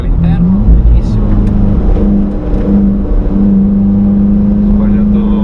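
An Alfa Romeo Giulia Quadrifoglio accelerates on a test drive, its engine holding a loud, droning growl heard from inside the cabin that briefly dips before climbing again, with voices speaking over it.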